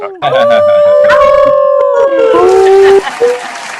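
A human caller imitates a wolf with a long, loud, wavering howl that rises and bends in pitch over several seconds, then trails off into breathy noise.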